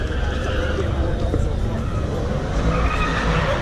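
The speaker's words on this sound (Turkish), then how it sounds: "Tabi burada burnout yapanlar da var." A car doing a burnout at an American car meet, with loud sustained tire squeal and roaring engine, noisy crowd and talk in the background.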